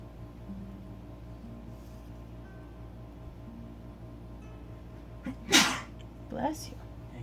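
A single sharp, close sneeze bursts out during leatherworking on a bracelet, followed by a smaller second burst, against a quiet room hum.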